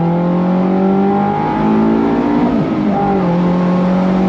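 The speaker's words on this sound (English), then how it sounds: "You hear the Vtec come in" Honda S2000 engine revving hard and loud, its pitch climbing and shifting as VTEC comes in and it winds up, close by.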